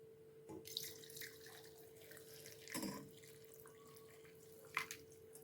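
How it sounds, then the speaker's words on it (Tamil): Dissolved jaggery water poured through a strainer in a home kitchen, a soft trickling and splashing flow with a few drips, fairly quiet and heard alone without talk. "வெள்ளத்தை வடிகட்டி எடுத்தாச்சு"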